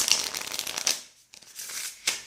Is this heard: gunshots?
no